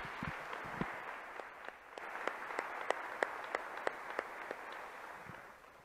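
Scattered, fairly crisp handclaps from a church congregation during a Spanish-language sermon, coming in a loose, rhythmic string of separate claps over a low background hiss, moderately quiet and steady throughout.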